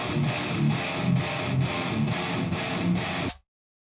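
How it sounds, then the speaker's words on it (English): Heavily distorted metal rhythm guitars chug in a tight, driving pattern, played dry with no equalization, loud and dense for about three seconds before cutting off abruptly. "and obviously without, it sounds like this."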